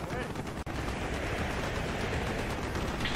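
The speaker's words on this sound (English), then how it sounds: "Taking AAA fire from the deck!" Heavy anti-aircraft fire from a ship deck in Call of Duty: Black Ops pounds continuously as a loud, rapid barrage, with a brief dropout early on and no speech over it.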